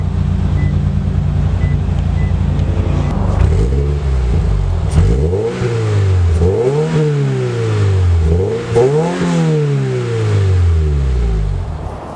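A 2019 Toyota 86 TRD engine roars loudly through a stainless steel catback exhaust, starting as a steady drone and then rising and falling in several quick revs, with wind buffeting the microphone.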